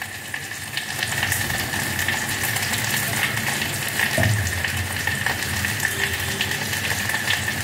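Chopped banana flower cooks in an oiled pan for a tamarind kootu, giving a continuous close sizzle with faint stirring scrapes, holding at an even level throughout.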